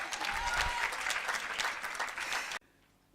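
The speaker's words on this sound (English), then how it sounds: "Some more clap for her," Loud audience clapping at a university debating championship in Kampala, applauding a female debater; brisk, dense applause rises quickly, stays strong, then cuts off abruptly near the end, leaving near silence.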